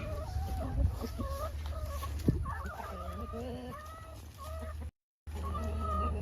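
Chickens scuffle and cluck in a fight, a run of short clucks and squawks close by with a sharp flurry near the middle and busy background noise.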